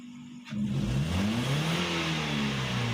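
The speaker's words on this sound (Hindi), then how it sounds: "जितना एक्सीलेटर दबाता हूँ उतना ही एक्सीलेटर रिस्पॉन्स है गाड़ी की तरफ से" Toyota Corolla engine, recently troubled by poor acceleration, revs up sharply as the accelerator is pressed, then holds a steady, loud, close drone with rising and falling pitch, with no talk over it.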